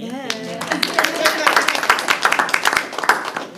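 A board of trustees meeting audience breaks into scattered applause, uneven claps building into a rippling burst after a voice speaks at the start.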